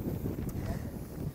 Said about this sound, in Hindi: हवा इतनी ज़्यादा तेज़ है